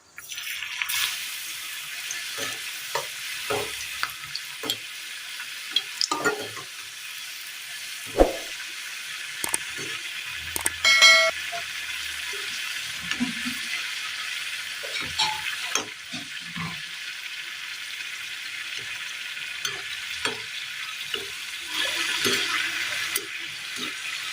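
Crispy snack dough rounds fry in hot oil for a Kerala tea-time recipe, a steady close sizzle broken by scattered pops, stirring knocks and brief clinks throughout, with no talk.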